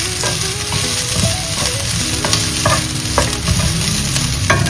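Ginger and other ingredients frying in a pan for a roasted-coconut chicken curry: a steady, close sizzle with scraping stir strokes and clinks throughout, no talking.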